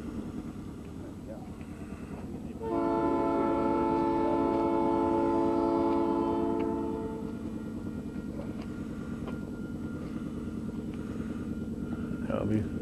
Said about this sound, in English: now we can say we hear the train a-coming